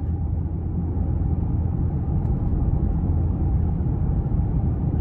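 A 2017 Maserati Ghibli SQ4 cruising in ICE mode, heard from inside the cabin as a steady low engine and road rumble, smooth and subdued, with no talking.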